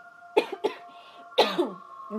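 A person coughs several times in quick bursts, two close together then a heavier pair, loud and nearby.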